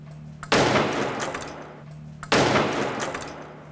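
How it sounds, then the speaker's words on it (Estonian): Two heavy impacts from a drop ram slamming into a car door during a side-impact crash test, each a loud sudden bang followed by a ringing, slowly fading metallic decay, about two seconds apart. "laseme selle sisse ühel rammil kukkuda"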